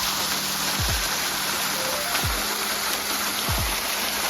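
Water rushes continuously at a waterfall near a house, fed partly by a pipe, a steady broadband roar with a few brief low sweeping sounds over it.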